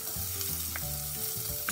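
Onions and tomatoes sauté in a pan for bulanglang, a brief close sizzle with stirring clatter and faint tonal background tones, no voices.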